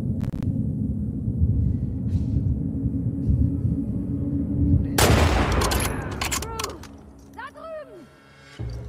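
Gunfire bursts in The Last of Us Part 2 during a fight with WLF soldiers, a sharp loud volley midway over a low rumbling game ambience with scattered impacts and whistling effects afterward.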